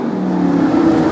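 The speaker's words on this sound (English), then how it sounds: "Like 7 cars doing donuts and shit," Police cars rev their engines while doing donuts, with about seven vehicles adding to a loud, steady roar that holds without a break.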